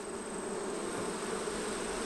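Honeybees buzz densely at an open hive in summer, a steady close drone of many wings with no voices.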